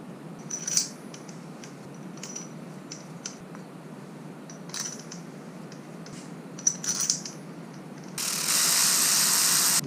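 Bolts run down with a ratchet on a Toyota Tacoma differential third member during a 5.29 regear, blue threadlocker on the threads: quick bursts of metallic ratchet clicking at close range over a steady low hum, ending in louder broadband noise.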